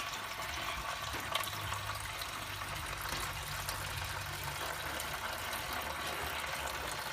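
Cold beer wort from a Grainfather brewing system, run through a chiller, pouring from a fair height into a fermenter, a steady rushing splash of liquid, continuous and close, with no talk.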